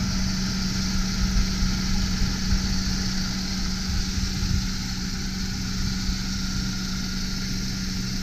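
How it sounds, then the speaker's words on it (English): A 2003 Mercedes C230 Kompressor with a supercharged 2.3-litre engine idles smoothly, giving a steady, even drone with a constant low hum and no roughness or revving. "Motor's running smoothly, there's no roughness."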